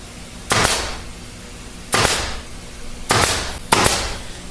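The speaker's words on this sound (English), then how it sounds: "You can take your staple gun and staple this down in there." A staple gun drives staples into upholstery fabric on a wing chair, four sharp, loud snapping shots spaced about a second apart, each with a short decaying tail, no talking.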